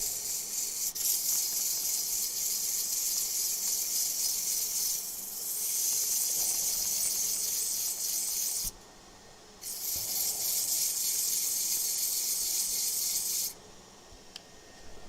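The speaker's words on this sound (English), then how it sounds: "I'm going to go over just this bit here with a little bit of 80 grit, just to help take that little lump down a touch" A metal-powder inlay is sanded with 80 grit abrasive in a long, steady, close rasping hiss, broken by a couple of short pauses between strokes.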